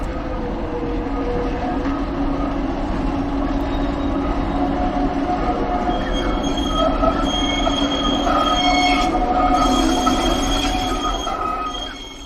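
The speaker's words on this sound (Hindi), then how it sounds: "ये ट्रेन ओलिंडा में 158 मीटर लंबे रोड कम रेल ब्रिज से होकर भी गुजरती है, जो कि सतलुज नदी के ऊपर बना है।" The free Bhakra-Nangal train crosses the road-cum-rail bridge over the Sutlej River with a loud, continuous rumble and sustained high metallic wheel squeal throughout, easing off at the very end.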